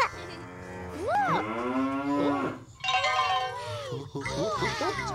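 A cow moos in long rising and falling calls, loud and close, with voices talking around it in a children's television scene.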